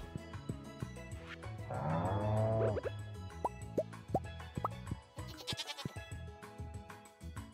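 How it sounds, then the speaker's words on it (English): A goat in the Stardew Valley farming video game bleats in a clear, wavering cry amid soft plopping game sounds and light background music, fairly quiet and without talk. "Tell me, that goat's a lot bigger now."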